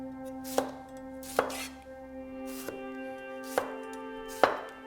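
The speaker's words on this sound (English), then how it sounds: "Now for my tomato. Again, just cutting those into wedges." A knife cuts tomatoes into wedges on a board, with five distinct, evenly spaced chops over a faint steady hum.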